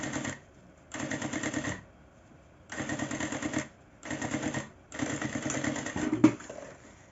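A sewing machine with a zipper presser foot stitches a zipper onto a fabric bag, running in four or five steady mechanical bursts of rapid chatter separated by short pauses, fairly close and alone.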